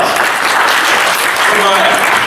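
An audience at a voice-acting panel event claps in a dense, loud burst of applause that fills the whole moment, with voices mixed in.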